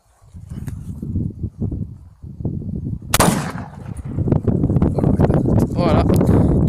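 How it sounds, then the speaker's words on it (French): A Merkel SR1 7x64 driven-hunt rifle fires one sharp, loud shot partway through, with people talking close by before and after it. "3 balles tirées"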